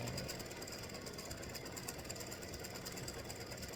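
An embroidery machine sews a satin stitch border on acorn earrings, producing a fast, continuous mechanical chatter and hum at an even rhythm, faint and steady throughout with no talking.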